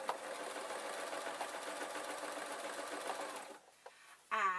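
Sewing machine stitching a fancy witch's hat, a fast steady mechanical whirring at close range that runs for several seconds and then stops, followed by a faint click.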